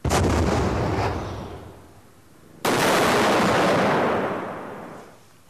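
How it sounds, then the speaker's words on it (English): Two loud, close explosive blasts about two and a half seconds apart, each followed by a long roaring decay, from a replica bazooka warhead detonating against a target of thick steel blocks. "He aims a replica of a bazooka warhead at a target made of thick steel blocks."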